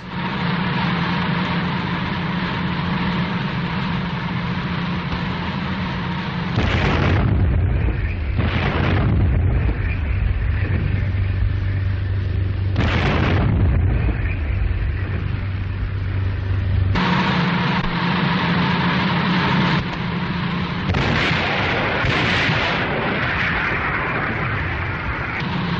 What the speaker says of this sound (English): Flag is a signal to let go a depth charge.